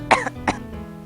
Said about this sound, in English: So, Carrie, what was that cough for?